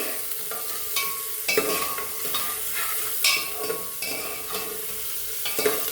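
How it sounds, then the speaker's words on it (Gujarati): Onions sizzling in a pan on a medium flame for jeera rice, with a steady fry broken by repeated scraping stirs of a spoon against the pan, close and fairly loud. "હવે આપણે ડુંગળીને 2 થી 3 મિનિટ મીડિયમ ફ્લેમ પર પકવી લેશું।"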